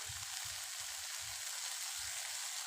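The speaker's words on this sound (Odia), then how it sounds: "ସେଥିପାଇଁ ଭଲସେ ଭାଜିବା।" Masala paste for eggplant korma sizzles in a pan, a steady bright hiss of frying with soft rhythmic stirring thumps underneath, close and continuous.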